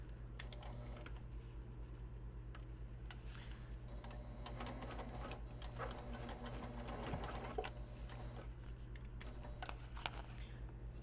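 A sewing machine chain piecing small cotton accent strips inside a bus, running in a steady quick rattle with brief pauses and restarts, close and fairly quiet against a low background hum.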